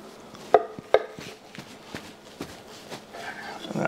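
A knife slices into a raw picanha steak on a board, a few soft cutting taps and two sharper knocks standing out over quiet room noise.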